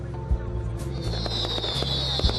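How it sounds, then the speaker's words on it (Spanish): Festival fireworks at the Saint Agatha celebrations in Catania, Sicily: a few sharp, booming bursts over a steady crowd din and low hum, with a bright hiss of crackle rising partway through. "Se pueden ver fuegos artificiales"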